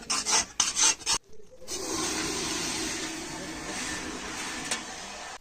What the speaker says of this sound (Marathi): ही नवीन कानस आहे आणि कानसने धार करून घ्यायची